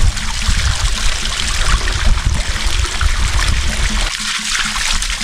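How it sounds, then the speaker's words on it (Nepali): Water runs steadily from an automatic spring-fed tap at a riverside campsite, a loud, continuous close-up gush and trickle with a little splashing and no speech. "अटोमेटिक धाराबाट यसरी बग्छ है"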